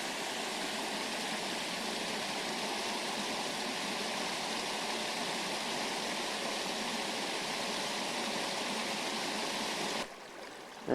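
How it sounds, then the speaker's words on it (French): Small river flowing at an Alaska gold mine, a steady broadband rush of running water close by that continues evenly, then drops away abruptly near the end. "Et nous voilà dans le cours de la rivière."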